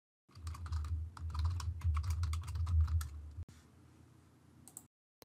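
Login username and password being typed on a computer keyboard, a close, steady run of key clicks for about three seconds that then drops to a few quieter, scattered taps.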